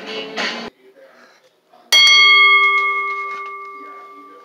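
A pro wrestling ring bell at the start of a table match rings once, loud and bright, its tone ringing on and slowly fading after a short burst of crowd noise and a quiet pause.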